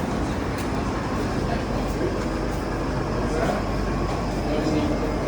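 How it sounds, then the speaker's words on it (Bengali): A train passes near a street in Sydney, a loud, steady rumble and rush that fills the whole stretch without pause, close to the listener. "ট্রেন যাচ্ছে"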